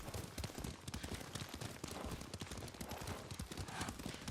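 Steady rhythmic hoofbeats of a galloping horse in the video game Ghost of Tsushima, fairly faint, under a continuous wash of background noise, with no talking.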